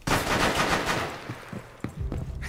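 Sharp gunfire in the tactical shooter Rainbow Six Siege: a loud burst of rapid shots up front, trailing into scattered single cracks and a final close report, with no talking.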